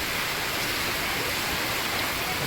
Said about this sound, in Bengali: আমাদের এখানে ঝড় আর বৃষ্টি শুরু হয়েছে প্রবল হারে